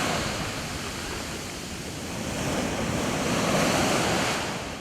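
Sea waves wash steadily onto a shore, a continuous broad roar of surf that swells slightly toward the middle and then eases, with no voices.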